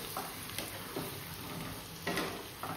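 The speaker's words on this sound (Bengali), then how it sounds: "চিকেনটাকে এবার কষিয়ে নেব।" Chicken sautéing in oil in a pan gives a soft, steady sizzle with occasional scrapes and stirring knocks. It is faint and close, with no talking.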